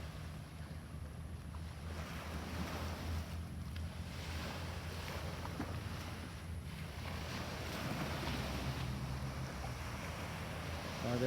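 Waves wash onto a small beach in Melaka on a cloudy day beside a busy shipping lane, a soft continuous surf mixed with wind buffeting the microphone.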